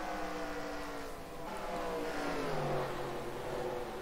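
Race car engines from the NASCAR Racing 2003 game at Bristol, a steady layered drone of several engines with rising and falling pitch sweeps as cars pass, continuous and fairly even in level.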